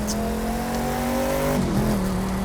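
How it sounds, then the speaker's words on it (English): A car engine in The Crew 2 over-revs in first gear, holding a loud, sustained high-pitched whine that wavers and briefly dips near the end, close and alone. "it seems like first gear just wants to keep over revving"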